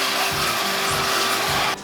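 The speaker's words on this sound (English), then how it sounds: "And we're going to vacuum it out one last time." A shop vacuum runs steadily and loudly, clearing debris from an engine's head gasket surface, with a rhythmic scraping pulse as the nozzle moves, then cutting off abruptly near the end.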